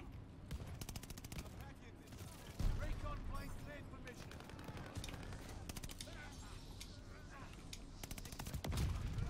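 Gunfire in Call of Duty Vanguard multiplayer, dense bursts of automatic shots and scattered single cracks layered over a noisy battle, with a loud close burst partway through and more firing near the end.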